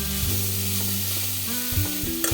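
Ground raw coconut and fennel paste sizzles in a hot pan as it is stirred in, a steady fry with some scraping during the mixing, no voices.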